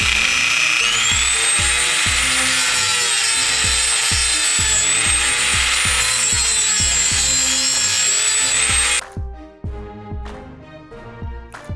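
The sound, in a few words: Dremel rotary tool drilling metal pin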